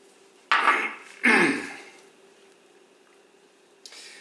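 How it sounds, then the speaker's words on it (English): Spoon stirring a cornstarch mixture into a boiling cream and wine sauce in a pan, two short bursts of scraping and sloshing followed by a faint simmer and a brief clink at the end. "now stir in that cornstarch mixture"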